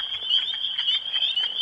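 Wood frog calling in a steady run of quick, duck-like clucking croaks, close and fairly loud, with a bright insect-like buzz running continuously behind.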